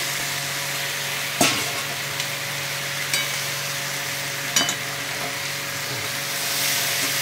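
A spice mix being stirred for fish biryani, a steady, moderate sizzling hiss with a few sharp utensil scrapes and clicks.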